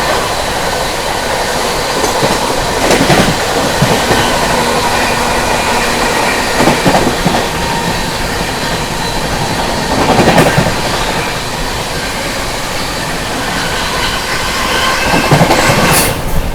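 The Prayagraj Humsafar Express runs at speed past the Prayagraj Express, giving a loud, continuous rail roar with rhythmic clickety-clack wheel beats and brief squeals.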